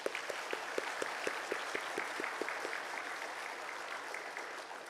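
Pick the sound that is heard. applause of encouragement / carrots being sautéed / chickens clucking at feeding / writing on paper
applause of encouragement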